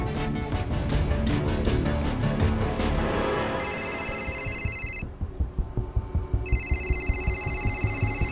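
A mobile phone rings with a repeating electronic tone in two bursts, the second after a short silent gap, playing over a dense, busy background in a tense crime-drama scene.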